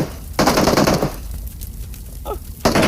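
Rapid gunfire from a bot in PUBG Mobile, two loud close bursts of automatic shots separated by a quieter stretch with faint distant shots.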